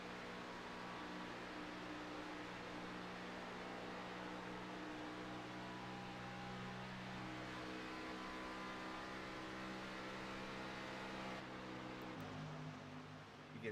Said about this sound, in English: You can hear him kind of letting off the throttle